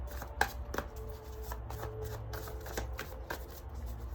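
Playing cards shuffled by hand for a pick-a-card tarot-style reading, riffling and snapping in quick repeated bursts with a few sharper slaps, close and clear over a low steady room hum.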